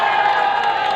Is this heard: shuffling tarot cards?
no